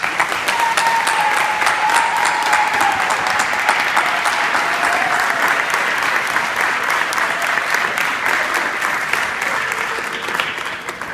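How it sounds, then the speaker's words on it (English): An audience gives dense, sustained applause at a U.S. Army All American Marching Band induction ceremony, loud and even throughout before tapering slightly at the end. "Let's give a big round of applause to the U.S."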